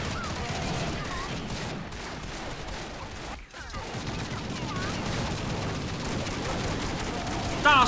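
Dense, sustained gunfire from Counter-Strike Online zombie mode, loud and continuous with near-constant broadband bursts over roughly eight seconds, with voices and game effects mixed in.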